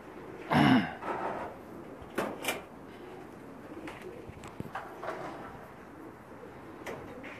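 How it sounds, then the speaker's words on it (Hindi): A Pakistani breeder pigeon coos once, low and soft, followed by scattered fainter calls and light rustling in a quiet space. "शौक करवा रहे हैं कबूतरों का, ब्रीडर कबूतरों का"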